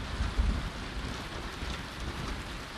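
Steady rain falls in a video game, a dense even hiss with a low rumbling undertone that holds at a constant level throughout.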